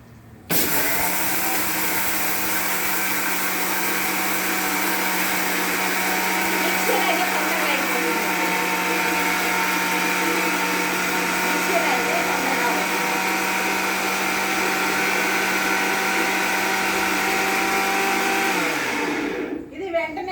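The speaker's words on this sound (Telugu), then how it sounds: "రోట్లో నూరటలేదు మిక్సీలో వేస్తున్నా ఈరోజు" A kitchen mixer grinder whirs steadily at high speed for about twenty seconds, grinding mint chutney, loud and close, then spins down and stops.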